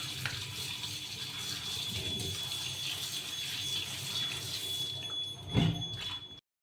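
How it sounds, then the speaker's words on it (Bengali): Running tap water splashes steadily in a sink while peeled boiled eggs are rinsed, with a constant close hiss and a brief louder burst of handling near the end. "এখন আমি সুন্দর করে ধুয়ে নিব।"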